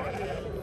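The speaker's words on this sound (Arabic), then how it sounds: "خرفان هذوما رخلات العمر تاعهم هو 5 أشهر هكذا 5." A sheep bleats at a crowded outdoor livestock market where rams and lambs are sold, one short wavering cry mixed with the busy background of the market.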